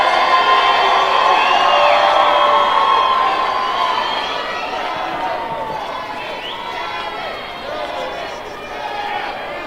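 Commencement crowd in an arena cheering and clapping, a loud sustained roar with whoops and shouts that gradually eases to a lower murmur of voices.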